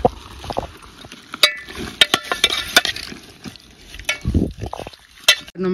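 Masala spices being mixed by hand for a village chicken curry party near Kavnai fort, with scattered scraping, stirring and clinking of utensils, close and irregular, plus light background noise.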